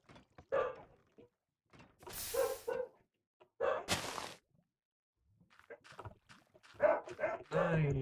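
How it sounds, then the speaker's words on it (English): Dogs bark in a few separate bursts, loud and close, with short quiet gaps between and some low murmuring and shuffling in the pauses. "I'd love if my dogs shut up."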